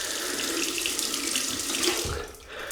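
Hot tap water runs steadily into a sink to warm a Razorock Eco Black safety razor, a close, loud and continuous rushing flow with no voices.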